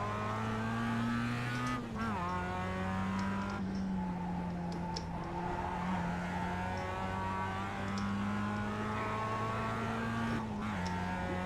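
A Mazda MX-5 race car in iRacing holds a steady engine note with harmonics that rise and fall smoothly through gear changes and shifts at about two and ten seconds, continuous and close with no talk.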